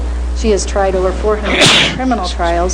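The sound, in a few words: sneeze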